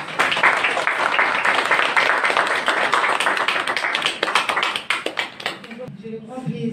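An audience at an annual Christmas charity event claps steadily for about six seconds, a dense and loud round of applause that stops abruptly before a voice begins speaking.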